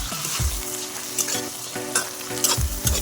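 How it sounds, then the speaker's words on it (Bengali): Chopped green chillies go into a tomato masala frying in a pan for aloo dum, giving a steady loud sizzle with several scraping stirs of a spoon against the pan. "এবার দিচ্ছি কেটে রাখা কাঁচা লঙ্কাগুলিকে"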